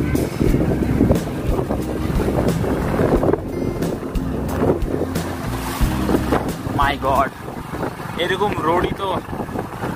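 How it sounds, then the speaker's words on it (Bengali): A motorbike labouring along a rough jungle road, its engine a steady low drone under heavy wind buffeting on the microphone, close and loud, while a rider speaks briefly over it. "এই বাইকটাকে মানতে হবে, এটা খুবই কষ্ট করে এখন টানছে বাইকটা"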